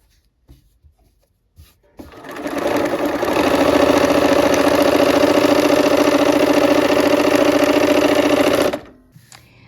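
A sewing machine stitches lace with a small stitch, starting after a couple of soft clicks and running loud and steady for about seven seconds before stopping abruptly.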